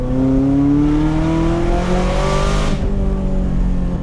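A Ferrari fitted with a new straight-pipe exhaust revs hard, its loud engine note climbing steadily in pitch for nearly three seconds before dropping off sharply and settling, heard close and without talk.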